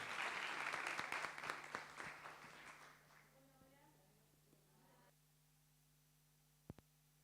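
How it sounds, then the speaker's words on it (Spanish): An audience applauds loudly at a business panel event, welcoming the speakers. The clapping fades out over about three seconds into a quiet room hum. A couple of brief knocks or taps follow. "Un aplauso para ellas, las recibimos y las escuchamos."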